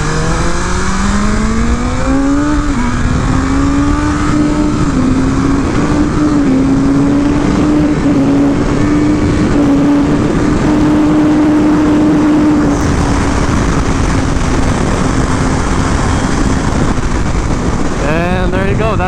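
A 2023 BMW M1000RR superbike at top speed with aero bodywork, its engine holding a loud, steady high-pitched drone with slight pitch wavers, heavy wind rush throughout and a brief rising note near the end.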